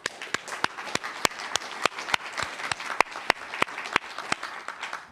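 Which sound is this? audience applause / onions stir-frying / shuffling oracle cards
audience applause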